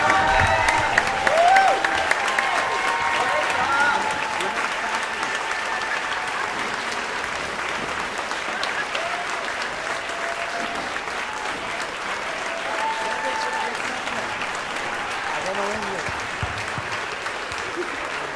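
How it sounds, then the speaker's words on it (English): Sustained, loud round of applause from a crowd honoring faculty members at an anniversary celebration, steady dense clapping throughout with a few faint cheers mixed in. "could every faculty member, past or present, please stand for a raucous round of applause"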